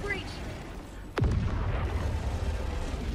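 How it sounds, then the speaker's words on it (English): Explosions in the Helldivers 2 video game: a sharp descending whoosh ends in a loud boom that rolls into a sustained rumbling, crackling blast over steady background noise. "Things are exploding."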